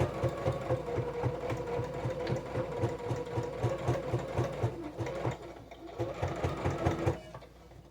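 A sewing machine double stitches the ends of an apron, its needle thumping in a fast, even mechanical rhythm close by, pausing briefly before resuming and stopping near the end.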